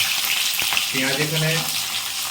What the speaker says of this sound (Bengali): তেলে দেওয়ার সাথে সাথেই আমি, যাতে করে জ্বলে না যায়, পুড়ে না যায়, সেখানে পেঁয়াজগুলো দিয়ে দেবো